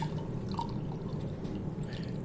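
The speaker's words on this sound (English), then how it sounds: "I'm going to pour it into the jar just enough" White vinegar trickles faintly from a container into a jar holding a rusty knife blade, a soft, close liquid pour with light dripping over a low background hum.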